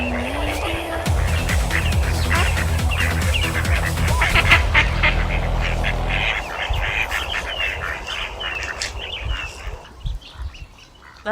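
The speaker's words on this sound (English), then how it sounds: "Those ducks are a bit much." Ducks quack and honk in a lively outdoor waterway chorus, loud and continuous throughout, mixed over steady background noise and tonal music in the first few seconds.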